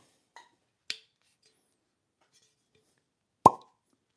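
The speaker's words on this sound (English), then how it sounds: "That was a cork pop." A cork pops out of an unopened Elijah Craig C923 whiskey bottle, one loud close plop preceded by a couple of faint small clicks, in an otherwise quiet room.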